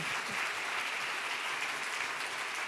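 Steady applause from the audience at the Berlinale 2026 independent juries award ceremony, a dense, even wash of many hands clapping throughout, moderately distant with no voices on top.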